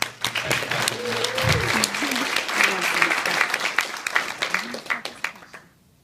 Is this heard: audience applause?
yes